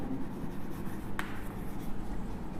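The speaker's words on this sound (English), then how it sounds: "First we will write Minu jumped" Pen writing on paper during a primary school maths lesson, a soft continuous scratching and rubbing close up, with one small tap midway; no talking.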